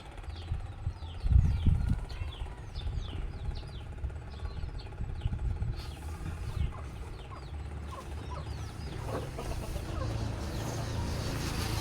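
Chickens cluck and crow in a rural Lao village, with repeated short calls scattered over steady outdoor background noise and a brief louder low thump near the start.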